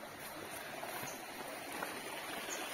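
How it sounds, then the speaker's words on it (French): A small stream flowing along a hiking trail on a descent toward the plain near Castres, a steady broadband babble of water at constant level with no voices. "Et ici, il y a un ruisseau."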